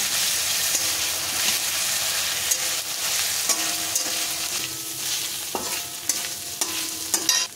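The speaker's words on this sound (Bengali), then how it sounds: "এবার মশলাটা খুব ভালো করে কষে নেব।" Masala paste of onion, garlic and ginger paste fries and sizzles in a pan, with repeated scraping stirs and clinks of a spatula over a continuous hiss.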